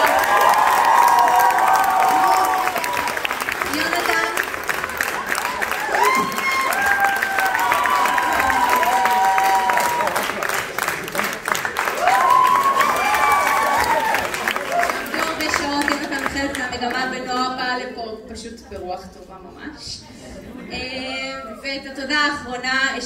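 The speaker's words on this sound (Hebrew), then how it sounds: "נגיד תודה ענקית עם כזה מלא כפיים לנגנים שלנו, יונתן ונועה." Audience applause and cheering for musicians at a concert, a dense wash of clapping with shouts and whistles that stays loud for most of the stretch, then thins as voices come through near the end.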